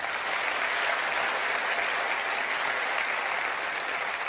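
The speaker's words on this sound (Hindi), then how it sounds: "एक जोरदार तालियां अपलाइनों के लिए होनी चाहिए।" Steady, dense applause from a large audience at a motivational business gathering, loud and continuous throughout with no talk over it.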